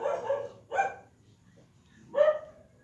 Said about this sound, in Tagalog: Ayan naman ang aso guys.